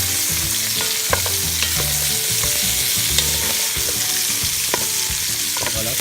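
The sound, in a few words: meat frying and being stirred in a pan for rougail boucané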